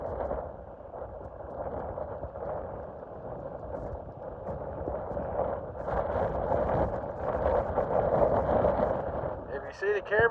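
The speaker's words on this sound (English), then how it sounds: "I think we got about 30-mile-an-hour wind gust again today." Strong 30 mph wind gusts buffeting a microphone outdoors on a cold day downtown, a constant muffled rumbling roar that surges and eases in uneven waves, growing heavier toward the end.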